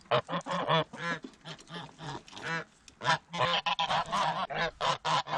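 Geese honk loudly and repeatedly nearby on a farm at feeding time, a flock of overlapping nasal calls in quick bursts with short pauses between.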